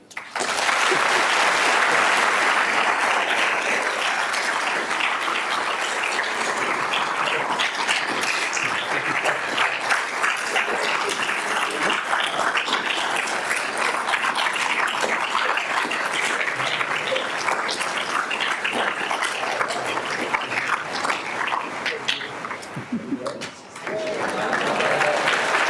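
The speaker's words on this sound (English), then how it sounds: "please join me in one final warm round of applause to thank Mr. and Mrs. Turnbull for a truly memorable evening" Sustained audience applause fills a lecture hall after a memorial lecture, steady dense clapping from a large crowd lasting throughout, with a brief dip near the end before it swells again.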